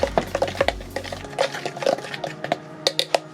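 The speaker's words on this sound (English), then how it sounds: "I'm going to add my cocoa powder in with my flour and give that a quick mix" A whisk clinks and taps against a bowl while cocoa powder is mixed into flour, a quick irregular patter of light metallic knocks close up with a low hum fading out early.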